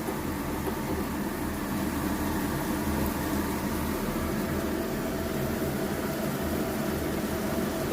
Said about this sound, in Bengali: এবার আমি কলার বড়াগুলো আস্তে আস্তে